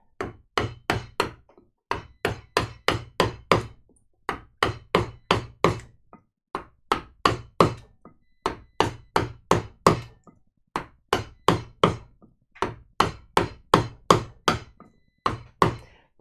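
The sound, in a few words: mallet driving a big gouge carving wood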